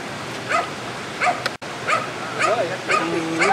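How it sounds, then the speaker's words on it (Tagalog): A dog barks repeatedly in short, sharp bursts at a moderate distance, with a few higher yips mixed in and a brief gap partway through. "Ayun ang aso."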